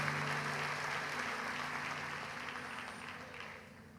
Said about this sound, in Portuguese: Você pode dar um aplauso à palavra de Deus?